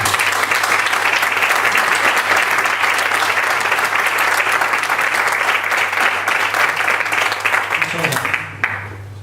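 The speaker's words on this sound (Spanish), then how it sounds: "me gustaría pedir un aplauso para ella" A crowd gives sustained, loud applause at a book presentation of short stories in Algeciras. Dense, even clapping fills about eight seconds over a low steady hum, then thins out and fades at the end.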